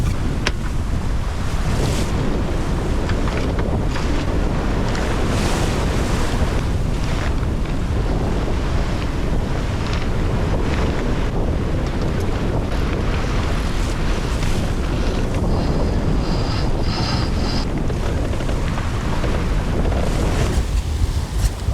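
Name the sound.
strong wind and ocean waves while sailing a boat downwind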